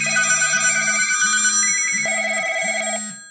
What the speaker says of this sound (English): This was my phone before Call Joy.